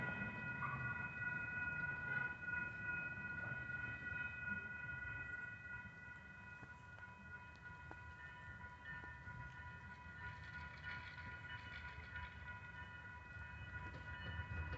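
A BNSF freight train nears a level crossing as the gates lower; faint, distant rail rumble runs under steady warning tones, quiet and continuous with no voices.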